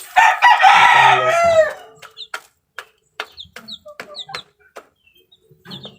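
Two-day-old chicks: a loud drawn-out call opens, followed by scattered short, high peeps spaced irregularly across the quiet.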